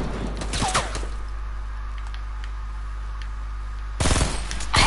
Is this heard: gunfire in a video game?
yes